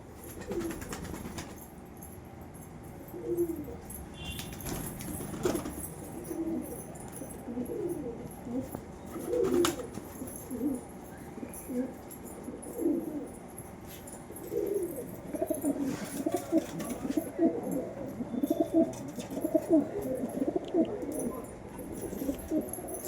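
Several pigeons coo steadily at close range, soft throaty calls overlapping in a continuous murmur without pause, with no talking.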